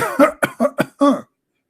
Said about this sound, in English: Okay, I will cough more.